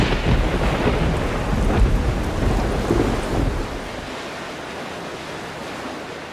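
A typhoon storm closing in, with thunder rumbling heavily over broadband rain, wind and surf noise, loud and dense for about three and a half seconds before easing to a steadier, quieter wash.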